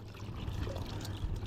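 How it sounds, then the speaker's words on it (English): Hot water pouring steadily into a container for washing a bike, a soft continuous trickle and splash that stays close, moderate in level and alone. "Bit of hot water."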